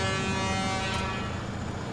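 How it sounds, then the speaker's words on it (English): A truck in the SnowRunner off-road driving game sounds a steady, loud horn that holds unbroken for the full two seconds, with rumbling engine noise underneath. "Stop honking, you say?"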